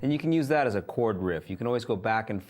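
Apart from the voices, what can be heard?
No distinct noise like a dog, phone or traffic.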